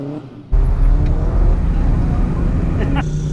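A Mazda Miata rally car roars loudly along a rally course, its engine note sustained and steady at close range after a sudden onset, with a voice faintly present.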